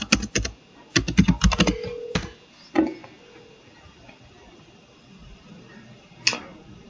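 Computer keyboard keys clattering close up as a username and password are typed in quick bursts, followed by a few scattered single key presses and clicks, with no talking.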